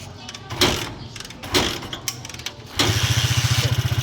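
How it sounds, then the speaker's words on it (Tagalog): A Honda 155 motorcycle engine, already warmed up, cranks with a few uneven sputters, then catches and settles into a loud, steady rhythmic idle close by. "Umi-start na, napainit na natin yung makina."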